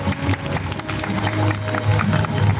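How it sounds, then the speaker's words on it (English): Audience applause at an English speaking competition's certificate ceremony, steady mixed clapping and crowd noise filling the room, with a low hum underneath and a murmur of voices. "Let's give them a big round of applause."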